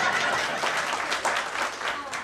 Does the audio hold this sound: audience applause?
yes